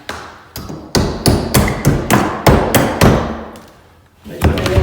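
Hammer blows knock a nail out of a wall stud during a sheetrock repair, about eight sharp, loud strikes in a fairly even rhythm with ringing decay, then a brief pause and a final knock.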